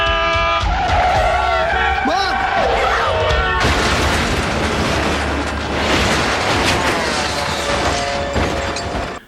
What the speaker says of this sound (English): they run into a car head on. No damage happens to the front of the car. It flips.